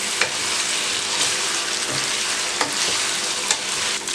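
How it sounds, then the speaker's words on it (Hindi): Chicken tikka pieces sizzle steadily in a pan, close and continuous, with a spoon occasionally stirring and scraping. "चिकन की रंगत बदलने लग पड़ी है, लेकिन अभी हमें इसे कुछ देर और फ्राई करना है।"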